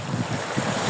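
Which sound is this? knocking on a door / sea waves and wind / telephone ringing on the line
sea waves and wind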